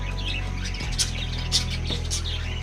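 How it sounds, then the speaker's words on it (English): A great pied hornbill in a rainforest zoo gives several loud, harsh squawking calls spaced about half a second apart, close by over a steady low background hum. "The great pied hornbill, found everywhere across Southeast Asia, Northeast India and southern parts of India."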